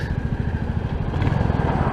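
Steady thumping exhaust note from a Royal Enfield Classic 350 motorcycle heard on the road, a loud, close, rapid low pulsing that runs throughout without talk.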